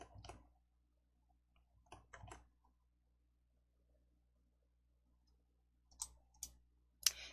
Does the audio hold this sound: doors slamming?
no